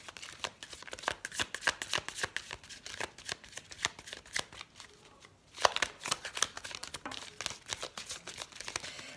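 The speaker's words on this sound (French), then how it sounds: "Allez, on prend une carte de l'oracle des amoureux." A deck of oracle cards is shuffled close up, a rapid series of crisp riffling and flicking bursts with a brief pause midway, quiet and without speech.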